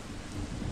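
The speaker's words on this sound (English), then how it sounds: "I swear, it's thunder" Deep thunder rumbles across a broad, steady wash of storm noise with rain, sustained and fairly faint, with no voices.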